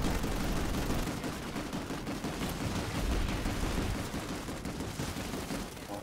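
Gunfire in the sci-fi battle game Planetside 2, a dense, continuous rattle of shots and distant booms blending into a loud, unbroken battle wash with no clear pauses.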